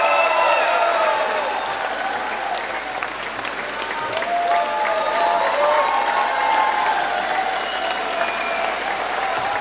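Concert audience at a live show applauding steadily for several seconds, with some cheers and a few voices mixed into the crowd noise.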